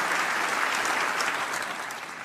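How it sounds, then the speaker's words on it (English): A studio audience breaks into dense, steady applause, many hands clapping at once in a continuous wash of sound that holds at an even level throughout. "Everyone give her a round of applause."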